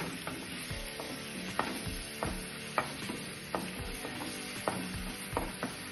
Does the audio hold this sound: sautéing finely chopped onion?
yes